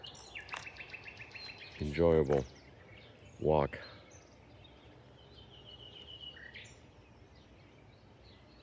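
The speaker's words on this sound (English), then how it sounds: "By far my favorite bird in Italy, the singing bird" A nightingale sings in the Italian countryside, its fast, bright chirps and trills carrying steadily across the clip under two short, louder bursts of nearby human speech.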